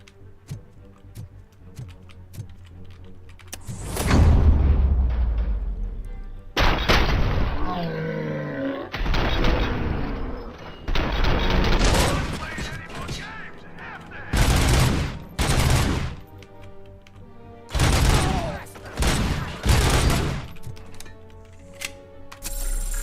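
Gunfire from a weapon in the RoboCop video game, repeated loud bursts of shots in clusters over about twenty seconds with short gaps between them, sharp and close.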